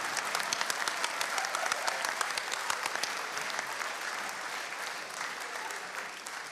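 Steady applause from a crowd, dense clapping holding at an even level throughout without any talk.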